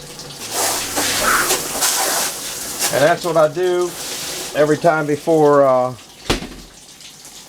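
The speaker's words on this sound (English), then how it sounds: "I got the hose back here. So I'll hose all that down." Water from a hose splashes and rushes into an ice machine, a steady hiss under someone talking, fading out near the end.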